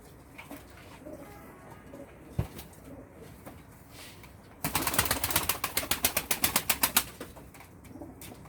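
Pigeons flap and flutter in a burst of rapid wing beats, with soft cooing and birdsong in the background before it.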